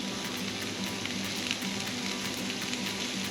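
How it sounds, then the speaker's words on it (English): Peppers and onions with fajita seasoning sizzle steadily on a hot Blackstone griddle, a dense continuous frying hiss with small crackles, close and even throughout with no talking. "we have got the peppers and onions on here. They're cooking great."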